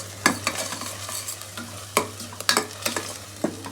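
Masala and onions stir-fried in oil for a Hassan-style egg and chicken curry, with irregular scraping spatula strokes over a low sizzle, close and clear, without speech.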